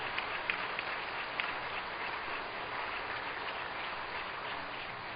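A church congregation at a Korean full gospel church service gives soft, steady applause, a continuous patter of many hands heard from a distance with a few sharper claps near the start.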